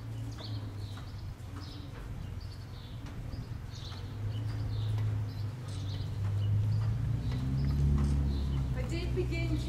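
A stallion canters through flying change exercises, its rhythmic hoofbeats thudding on the arena footing and growing louder toward the end, with a voice talking over them and faint birdsong behind.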